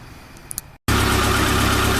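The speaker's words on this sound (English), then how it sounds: "the engine always sounds a little smoother when you put some oil in it" A Suzuki Samurai engine idles on fresh oil, starting as a quiet low rumble with faint clicks, then after a brief gap a loud, steady close-up idle roar that holds to the end.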